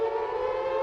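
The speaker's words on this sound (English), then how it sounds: "the nuclear sirens is one of my favorite sounds ever" The nuclear air-raid siren from the post-apocalyptic video game Fallout 4 holds a steady, sustained wail, loud and continuous with no voices.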